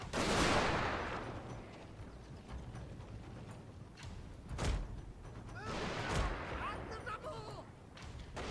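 Rifle volleys and distant cannon fire rumble through a battle in the strategy game Total War: Fall of the Samurai, with a booming burst at the start and scattered shots and crackling under a noisy battlefield.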